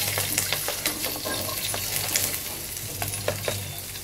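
Chili padi, garlic, onions, gula melaka and belacan dry frying in a pan for sambal, a steady close sizzle with scattered stirring scrapes and clinks throughout.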